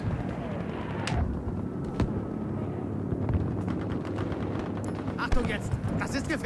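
Gunfire from the player's own team in the Battlefield V video game, a mix of distant rifle and machine-gun bursts and low rumbling booms under battlefield ambience, fairly faint and continuous.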